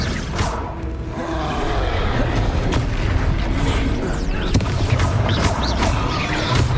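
An Expelliarmus spell cast during combat in the Hogwarts Legacy video game, a loud dense burst of magical booms and crackling impacts over a rumbling low background, continuous and close.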